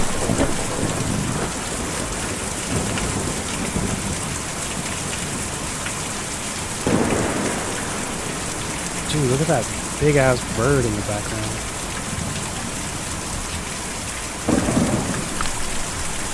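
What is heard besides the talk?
rain and thunder in video game Kentucky Route Zero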